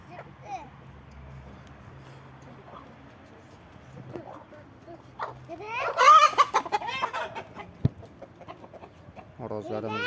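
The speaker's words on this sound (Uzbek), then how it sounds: "Xo'rozlarimiz ham o'ta katta narsalar" Plymouth Cross Silver hens and roosters cluck in a burst of calls near the middle, with people talking around them over a quiet, low background hum.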